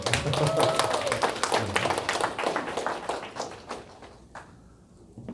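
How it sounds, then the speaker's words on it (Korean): An audience at a community education lecture gives a burst of many-handed clapping that fades out over a few seconds, with faint voices underneath. "맞으면 박수를 주십시오"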